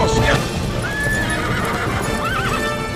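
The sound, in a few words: horse neighing and hooves clip-clopping in the Tangled film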